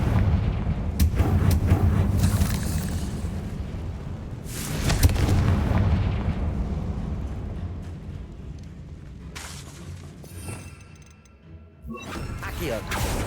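Booming Confringo blasting-spell explosions from the Hogwarts Legacy video game, loud bursts around one, five and ten seconds amid rumbling game effects, with a voice speaking over the action.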